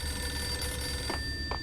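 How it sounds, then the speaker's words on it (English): In the video game Max Payne, a telephone rings with tonal bursts over a steady hum and low background drone, with no speech. "I hear that phone ringing"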